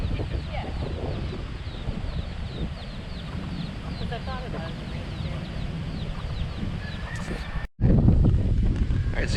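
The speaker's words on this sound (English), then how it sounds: "Got some baby chickens." Chickens, including chicks, cluck and peep in a park in Key West, Florida, in quick scattered calls amid wind and outdoor background noise, with a louder rush of noise near the end.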